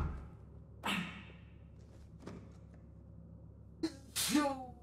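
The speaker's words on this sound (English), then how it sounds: "I got a sneeze." A sneeze in the middle of a tactical military shooter session, a sharp burst with a short breathy lead-in, followed a few seconds later by a second loud sneezing burst close to the microphone over quiet background hum.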